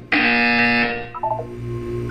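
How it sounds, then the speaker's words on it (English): A loud electronic buzzer from the video game Portal 2 blares steadily for about a second, then cuts off into a short falling chime and a low hum. "You will hear a buzzer."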